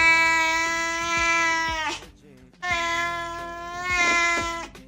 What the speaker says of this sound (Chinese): 猫咪的奇怪叫声 Top 14。